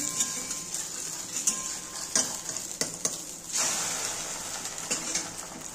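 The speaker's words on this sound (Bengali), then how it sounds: "দেখো কড়াইটা গরম হয়ে গেছে, এবার আমি ডিমের মামলেটগুলো করে নেব" Egg omelettes fry in a hot kadai with a steady, close sizzle, broken by sharp scrapes and clicks from a spatula as the omelettes are flipped. No one speaks.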